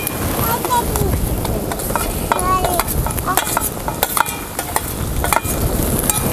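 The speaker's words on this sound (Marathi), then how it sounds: "आता टमाटो घालायचं," Tomatoes tipped into a pan over a wood-fired stove outdoors at a farm and stirred in: a loud, continuous sizzle with scattered scraping clicks of a spoon against the pan throughout.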